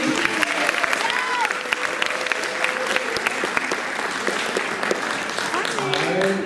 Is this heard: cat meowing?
no